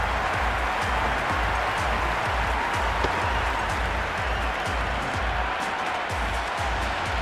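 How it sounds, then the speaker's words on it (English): A cricket stadium crowd cheers and applauds in a dense, continuous roar of clapping and voices that holds steady and loud throughout. "There's a buzz, a real buzz coming from the stands."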